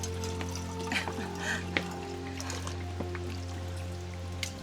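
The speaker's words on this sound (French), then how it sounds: "donc petite source d'eau." A small spring of water in a Korean mountain forest, flowing and trickling softly with scattered drips over a steady low hum, faint and close.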